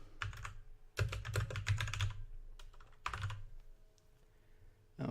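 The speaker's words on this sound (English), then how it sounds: "I've got a new keyboard, so it might be a little noisy" Fast typing on a new, fairly noisy computer keyboard, with close clacky keystrokes coming in quick bursts separated by brief pauses.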